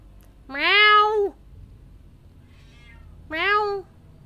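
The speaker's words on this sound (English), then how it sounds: "He's got a big meow and he knows how to use it." A male cat gives two loud, drawn-out meows close to the listener, about three seconds apart, with quiet between them.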